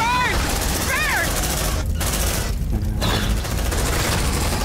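Heavy shotgun fire in the sci-fi game Aliens: Dark Descent, a dense, loud barrage of blasts running without pause, with shrill sweeping alien screeches at the start and two brief drops in the din.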